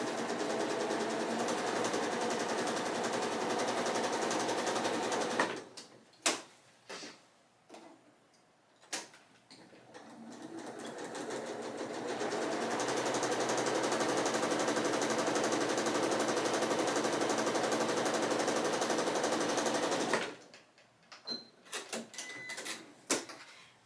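A sewing machine stitches a quilt block seam in two long, steady whirring runs, loud and close, separated by a pause filled with scattered clicks and handling noises, with more clicks after the second run.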